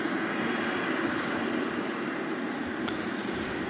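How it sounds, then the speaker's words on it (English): Airbus A330 engines at Manchester Airport give a continuous, fairly distant rumbling roar with a steady mid-range drone and a faint brief tick near the end, no talking. "We love the sound of the 330s"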